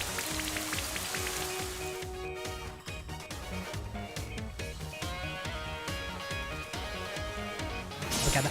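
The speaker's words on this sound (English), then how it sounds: "Slowpoke's gonna use Rain Dance." Rain from the Rain Dance move in the video game Pokémon Sword patters steadily and fairly softly as a constant wash, with game music and tones playing over it.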